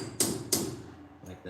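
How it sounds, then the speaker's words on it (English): A hammer strikes a chisel to pry the cap off the front wheel of a 2002 Ford E350 van during brake work: two sharp, close metallic taps and a fainter knock after them. "Take a chisel, work your way around"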